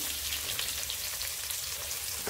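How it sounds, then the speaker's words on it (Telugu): Sliced onions drop into hot oil while cooking ivy gourd fry, a dense, even, bright sizzle that runs loud and close throughout without any talk. "ఫ్రై అయిపోయి ఇప్పుడు ఆనియన్స్ వేసుకుంటున్నాం"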